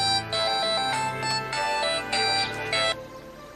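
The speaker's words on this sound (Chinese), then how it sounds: "王院长电话" A phone ringtone plays a bright, repeating electronic melody in short bursts, loud and close, with no talking over it.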